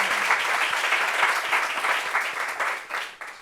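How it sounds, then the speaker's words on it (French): An audience at a tribute gathering claps together in a brisk, steady round of applause, close and fairly loud, with individual claps audible, fading briefly near the end. "Est-ce qu'on peut applaudir pour maman Tanon Coutouan Odette"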